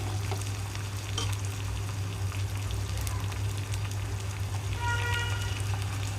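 Onions and green chillies fry in a pan for a Telugu dal with amaranth leaves and raw mango, giving an even, moderately loud sizzle that runs throughout with slight crackling.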